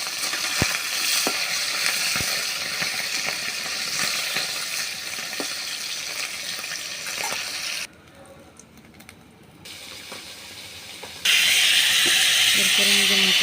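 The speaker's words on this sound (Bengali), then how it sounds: "মাছগুলো ছেড়ে দিয়ে একটু লাল করে ভেজে নিয়ে সুন্দরভাবে লাল করে ভেজে নিচ্ছি" Tangra fish sizzle and spit steadily in hot white oil in a pan, a dense close hiss with a brief quieter lull before the frying surges louder again; a voice speaks over it at times.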